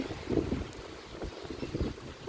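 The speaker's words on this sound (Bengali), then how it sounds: "প্রচুর বাতাস" Strong wind on a rainy morning in Dhaka buffeting the microphone in a low, rumbling roar with uneven gusts.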